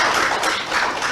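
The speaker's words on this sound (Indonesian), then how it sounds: "Tepuk tangan" Audience applause at an installation ceremony for an association's board, a dense, steady wash of many hands clapping with no voices over it.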